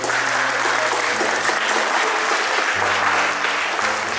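An audience of parents and guests claps steadily at a fourth-grade farewell to primary school at Gogaran secondary school, a continuous loud wall of applause with a low tonal hum running beneath it.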